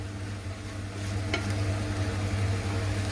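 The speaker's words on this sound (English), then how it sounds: "Add the codfish and keep stirring" Codfish sizzling in a frying pan while being stirred, a steady dense crackle close by with a soft scrape of the utensil partway through, no voices.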